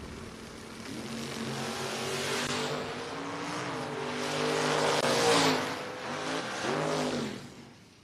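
A 1987 Mustang at a drag strip revs and launches, with engine pitch climbing through the gears and a loud peak before it fades slightly, heard alone and fairly close.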